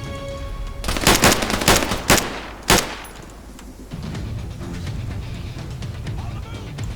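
Bursts of automatic machine gun fire from the ArmA 3 video game, loud and close, with several heavy volleys in the first few seconds, then a lower rumble of distant battle.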